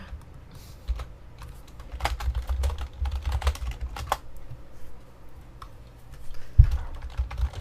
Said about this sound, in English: Man, why can't I type?